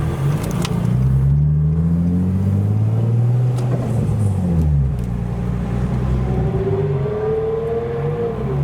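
At a car show, a Lamborghini Aventador S passes close by with a loud, rumbling engine whose pitch rises and falls across several revs, and no talking is heard.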